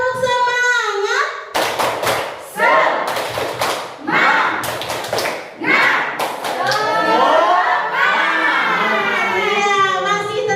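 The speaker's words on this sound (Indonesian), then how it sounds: "Tepuk semangat." Tepuk semangat, a group clapping chant led in a teaching session: a rhythmic sequence of sharp claps in patterned bursts mixed with voices chanting and calling out together, loud and close.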